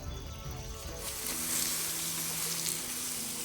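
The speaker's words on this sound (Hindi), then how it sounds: "अब पहले तो हम इस आग को पानी डाल के बुझा रहे हैं" Water poured onto a jungle campfire to put it out, giving a steady hiss and sizzle of steam over the embers that swells slightly after the first second and continues without pause.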